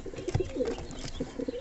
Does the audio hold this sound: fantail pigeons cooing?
yes